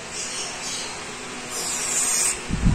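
Electronic contact cleaner sprayed onto a mixer, a steady close hiss of aerosol lasting a couple of seconds, brightening toward the end before a short low thump.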